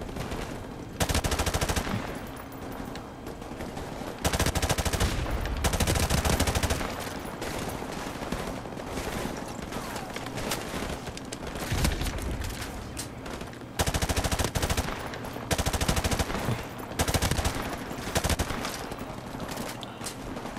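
Gunfire in the video game Call of Duty 4 Remastered, repeated loud bursts of automatic fire in long volleys separated by short lulls, with a constant battle din beneath, no talking.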